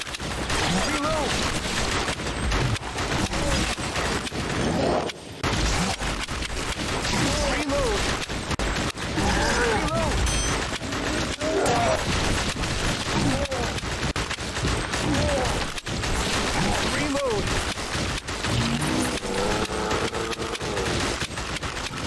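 Rapid bursts of light-gun gunfire from the House of the Dead Remake zombie shooter game, crackling and dense throughout, mixed with game noise and frequent talking over the top.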